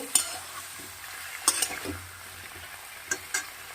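Ingredients for a vegetarian dish are stirred and fried in oil. A soft, low sizzle runs throughout, broken by a few scraping stirs and faint utensil clinks, with no voice.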